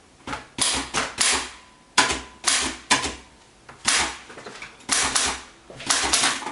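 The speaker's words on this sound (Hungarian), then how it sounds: "Használj már írógépet, mint minden normális ember." Bursts of rapid typewriter key strikes with sharp mechanical clacks, coming in quick clusters separated by short pauses, close and fairly loud with no voices.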